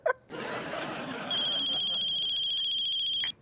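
After a brief murmur of voices, an electronic telephone ring tone sounds steadily for about two seconds, then cuts off.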